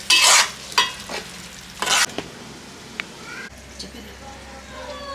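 Vegetables for biryani are stirred in a pot, with a few scraping stirs at the start over a soft background sizzle, then quieter cooking noise.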